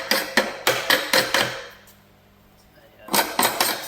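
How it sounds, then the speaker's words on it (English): Slag hammer knocking dross off plasma-cut steel, a rapid run of about seven sharp metallic taps, a second's pause, then another quick burst of close, loud blows. "Use my slag hammer to get my dross."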